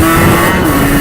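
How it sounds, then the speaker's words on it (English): A Rieju RRX motorcycle engine held at a loud, steady high-revving drone during a wheelie, close and continuous for a brief moment with no talk. "let's do one last wheelie"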